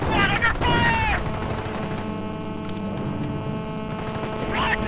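Gunfire in the Company of Heroes video game: a dense spread of shots and a low constant hum fill the background, with radio-style unit callouts rising over the battle at the start and near the end.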